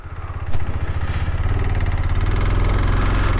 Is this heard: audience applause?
no